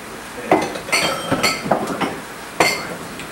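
Kitchen dishes and a bowl clinking while shrimp are prepared for a shrimp, chicken and rice dish, with a handful of sharp, close ceramic and metal knocks spaced irregularly and quiet gaps between.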